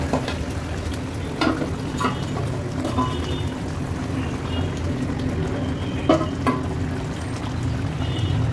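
Pabda fish go into a boiling spiced gravy in a kadai, a continuous bubbling, frying hiss with a few soft splashes and utensil knocks, close and fairly loud throughout.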